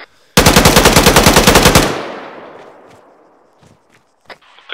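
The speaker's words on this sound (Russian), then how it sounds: "Не знаю, по мне стреляют." Loud close burst of automatic gunfire in a multiplayer shooter video game, a rapid string of about fifteen shots lasting under two seconds, then a long fading echo and a few faint distant shots.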